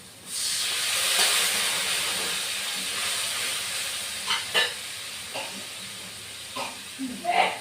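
Water splashes into a hot pan of spices, cumin powder and red Kashmiri chilli for a mustard fish curry, giving a steady loud hiss and sizzle with a few stirring clatters toward the end.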